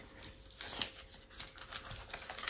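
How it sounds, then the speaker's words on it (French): A paper hole punch bites through envelopes in a quick run of sharp, close clicks and clacks, several crisp snaps spaced irregularly over a couple of seconds at low volume. "Ma perforeuse."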